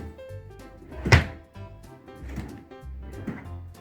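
A single dull thunk of a drawer or cupboard being handled during a search, near and brief, amid quiet rustling and soft handling sounds.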